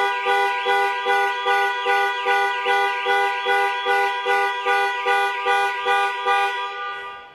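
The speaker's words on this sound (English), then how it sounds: "Press for 3 seconds or press 3 times in 3 seconds, and the horn will sound and the hazard lights will flash." The horn of a 2021 Jaguar XF sounds in a panic alarm, honking in a rapid, even series of about a dozen short, near, loud blasts that fade slightly at the end.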